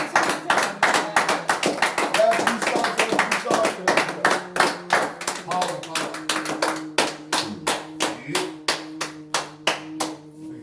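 A church congregation at an evening worship service claps in rhythm to acclaim God. The claps are loud and regular, with singing and voices over them at first, then sharper claps that stand more alone as the service goes on.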